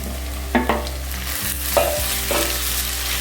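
Tomatoes sauté with onion, ginger and garlic in a pan, with a low sizzle and a few scraping stirs of a spatula over a steady low hum, close and fairly loud.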